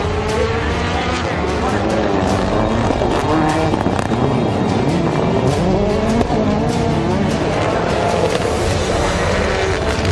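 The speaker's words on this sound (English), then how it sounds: "Into the first turn, Bucky waits for an opening and slides into 3rd past Deegan and Weeman." Race cars in a competitive heat charge through the first turn, engines roaring loud and continuous with tire noise, close and dense throughout, with commentary running over the racket.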